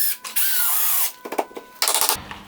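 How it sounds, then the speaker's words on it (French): A power screwdriver drives screws into wooden joists on a woodshed roof, giving a few short bursts of whirring and grinding with clicks and knocks between them. It sounds close and moderately loud. "Maintenant je vais visser mes lambourdes en haut"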